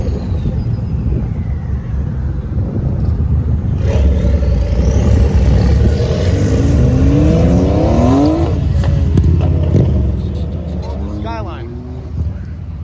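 A Nissan Skyline accelerating past at a cars and coffee meet, its engine rising in pitch through the gears as it passes close, over steady background crowd and traffic noise with people talking.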